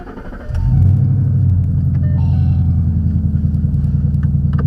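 A 2011 Ford Mustang GT V8 engine starts up and settles into a deep, loud, steady rumbling idle close by, with light clicks over it.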